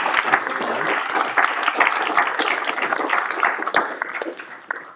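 Audience members at a mathematics lecture clap steadily for about five seconds, a dense, even patter of many hands that thins slightly toward the end, with no speech over it.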